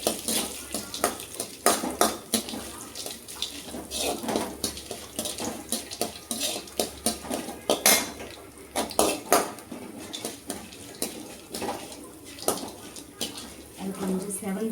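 Chana dal being sautéed with ginger and mustard in a pan, heard as steady clinks and scrapes of a utensil against the pan, with faint sizzle and a voice speaking over the cooking throughout.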